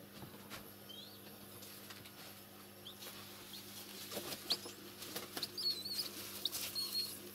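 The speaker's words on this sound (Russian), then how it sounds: "Вы голубей разводите." Pigeons stir inside a dovecote, with faint soft wing flutters and scuffles over a low steady hum, growing busier and a little louder toward the end.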